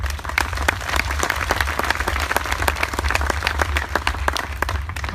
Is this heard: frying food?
no